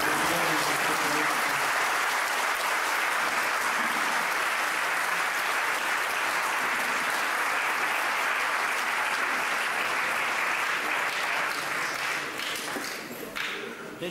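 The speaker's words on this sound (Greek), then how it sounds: "Νομίζω ότι ήταν δυνατότερο το χειροκρότημα για τον κύριο καθηγητή" An audience at a commemorative event for Saint Kosmas of Aetolia in 2002 claps in sustained, dense applause that holds steady for over ten seconds and tapers slightly at the end, with some voices faintly underneath.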